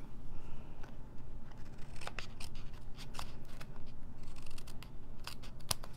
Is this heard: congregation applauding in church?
no